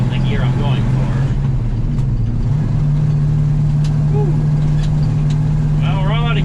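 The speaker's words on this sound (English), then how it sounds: "Okay, top gear. Let's wind up the poor old V8." The V8 engine of an old grain truck hauling a load of beans on a cold morning winds up in top gear with a steady, loud drone inside the cab, while someone talks over it.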